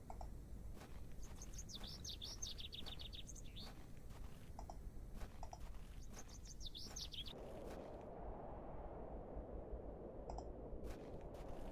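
Birdsong in the moorland video game The Excavation of Hob's Barrow: bright, repeated chirping phrases over a steady wind-like ambient bed. The chirps fade after about seven seconds, leaving a quieter hiss with a few faint calls.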